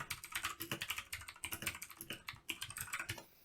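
Rapid typing on a computer keyboard, a quick steady patter of close, crisp key clicks with occasional brief pauses.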